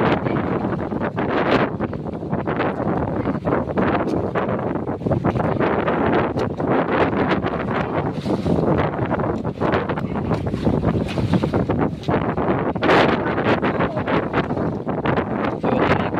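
Strong wind buffets the microphone in loud, gusty rumbles, continuous and close, with no talk.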